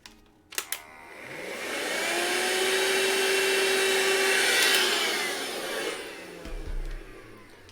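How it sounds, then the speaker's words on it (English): A vacuum cleaner sucks up loose pastel powder from a Pastelmat drawing surface. It switches on with a click, whines steadily for several seconds, then winds down, with clunks of handling at the end. "let me just get a vacuum cleaner because there's a bit of powder."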